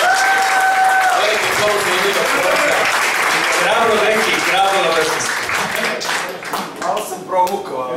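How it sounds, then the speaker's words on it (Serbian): An audience applauds for a festival: dense, loud clapping sustained for several seconds, then thinning into scattered claps while a voice speaks over the end. "Ajmo da jedan aplauz za Indire Festival."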